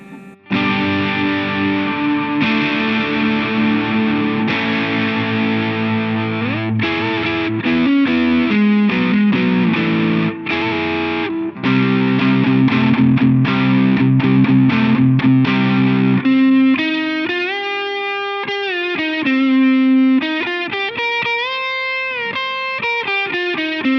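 An MXR Custom Badass Modified O.D. overdrive pedal with its bump switch engaged: distorted electric guitar playing chords and riffs with a thick, boosted low and mid tone, continuous and loud, with no talking.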